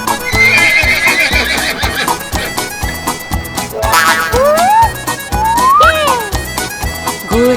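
A horse neighs and whinnies while hooves clip-clop in a steady rhythm, pulling a horse cart through a lively children's Hindi rhyme, with loud music and bouncy sound effects throughout.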